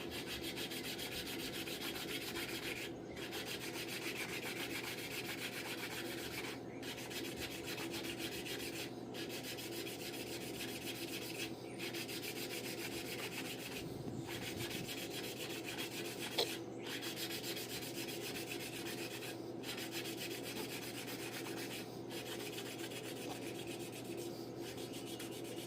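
Engine valves on a 1950 Farmall Cub are lapped by hand, a steady gritty rubbing and grinding that repeats in back-and-forth strokes with brief pauses, close and quiet, with no talk.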